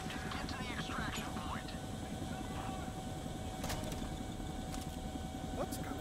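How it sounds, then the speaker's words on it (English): Helicopter in the Zero Caliber VR shooter game, a constant droning rotor and engine roar holding steady throughout, with brief faint chirps and clicks on top. "Cool, jumping into a helicopter in VR."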